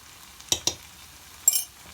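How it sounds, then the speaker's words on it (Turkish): Liver frying in a Turkish sac pan is stirred, with a few sharp metallic scrapes and clinks of the utensil over a faint, quiet sizzle. "Şimdi güzelce karıştırıyorum."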